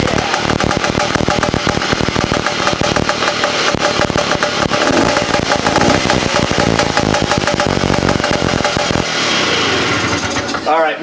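Two-stroke motorcycle engine running indoors in a workshop, a loud, rapid, crackling idle with revving close by, settling into a smoother drone near the end.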